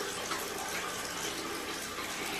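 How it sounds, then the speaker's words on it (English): Hot water runs from a tap in a steady, even rush, close and fairly loud, with no voices. "I put hot water on my face first so it can open my pores"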